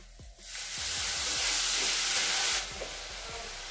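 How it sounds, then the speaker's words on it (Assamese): A sweet chutney with turmeric, sugar and a little water sizzles and is stirred in a pan, swelling into a bright hissing fry for about two seconds and then dropping back to quiet scraping. "এতিয়া অকণমান সময় ভাজি ভাজি পানীটো শুকাই আহিলে এইখিনি হৈ যাব"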